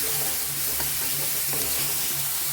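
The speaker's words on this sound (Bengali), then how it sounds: "ভালো করে লাল করে ভেজে নিতে হবে একদম" Onion paste frying with garlic in oil in a home kitchen, cooked until browned for aloo bhindi: a steady, close, loud sizzle with faint stirring scrapes and no voices.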